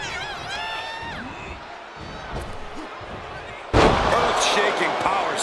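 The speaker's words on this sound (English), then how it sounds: "Earth-shaking power slam." A heavy power slam lands in the WWE 2K25 wrestling video game, a sudden loud body-impact crash followed by roaring arena crowd noise, with commentary heard over it before the hit.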